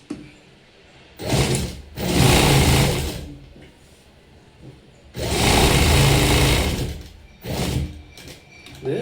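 A sewing machine stitches a blouse in two longer bursts and a short final run, each a loud, close mechanical whir separated by quiet pauses.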